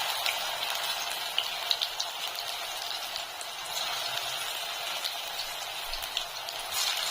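Cut pieces of colocasia leaf frying in hot oil, a constant fine bubbling sizzle heard close and steady throughout, with light crackling ticks scattered over it.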